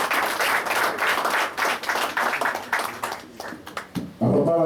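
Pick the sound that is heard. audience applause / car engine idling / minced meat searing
audience applause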